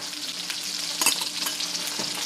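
A whisk works salt, garlic powder and pepper into Alfredo sauce for chicken fettuccine, giving a steady soft scraping swirl with a brighter clink of metal near the middle, close and continuous, no talking.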